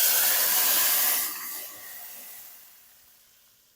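Green chilies and whole red chilies hit hot tempering oil for a bottle gourd and chana dal curry, giving a loud sizzling hiss that fades over about four seconds before a sudden clunk at the end.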